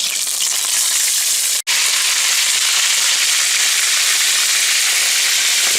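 Pieces of rabbit fry in smoking-hot oil in a pan, producing a loud, dense, continuous crackling sizzle close up, broken only by one split-second cut.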